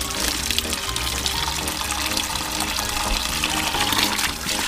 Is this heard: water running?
yes